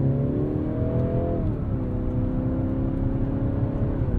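A 2022 Mercedes-Benz C300 4MATIC sedan on snow tires accelerates up an entrance ramp, its engine note climbing steadily through the gears with a smooth continuous whir and road rumble heard from inside the cabin.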